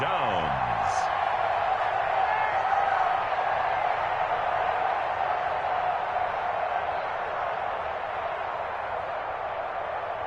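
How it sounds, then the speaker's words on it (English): Stadium crowd cheering during the opening drive of an American football video game on PS4, a steady loud roar that swells and holds throughout, with commentary voices talking over it. "And this crowd loves it as their guys hold on the opening drive."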